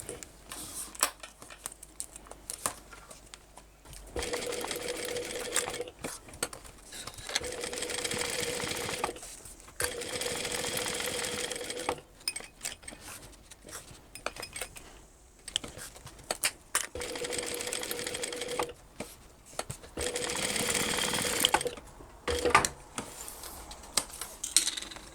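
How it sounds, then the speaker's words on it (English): Sewing machine top stitching around the edge of a fleece switch case, running in several bursts of rapid mechanical whirring separated by quiet pauses, close and clear. "what we're going to do now is top stitch around that edge"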